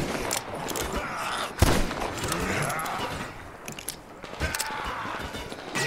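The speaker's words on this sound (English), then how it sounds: "Is someone giving me covering fire or what?" Gunfire rings out during a firefight in the video game Metro Exodus, with a sharp loud shot and scattered bursts over a dense, noisy backdrop of rumbling combat.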